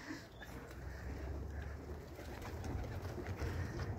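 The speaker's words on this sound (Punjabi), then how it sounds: "ਖਾਨ ਸਾਹਿਬ ਦੀ ਛੱਤ ਤੋਂ ਪ੍ਰਵਾਸੀ ਕਬੂਤਰ ਪ੍ਰਵਾਸ ਕੇ ਲਈ ਉੜ ਚੁੱਕੇ ਹੈ" Pigeons coo on a rooftop in Jeddah, Saudi Arabia, a soft and continuous murmur under steady outdoor background noise with no clear foreground voices.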